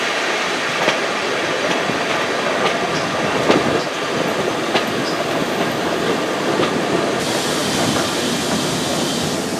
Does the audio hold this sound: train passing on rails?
yes